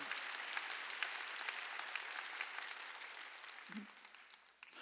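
A church congregation claps together during a Sunday worship service, a steady wash of many hands held at an even level for several seconds before thinning out near the end, with a brief voice surfacing partway through.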